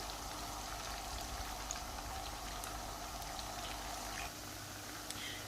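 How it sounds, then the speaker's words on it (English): Hot oil sizzles and bubbles steadily at a low level as pakora fritters fry, with occasional small pops crackling through the constant hiss. "so we've got the second batch frying nicely."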